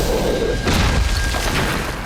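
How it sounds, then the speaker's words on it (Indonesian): A huge boom erupts in a martial arts film fight scene, a loud broadband blast hitting abruptly after a brief lead-in and rumbling on for over a second. "Terjadilah ledakan yang amat dahsyat."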